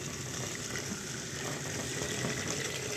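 Hot water poured steadily into a cooking pot of soaking grains, a continuous, full gushing stream that holds an even level for the whole stretch with no talk.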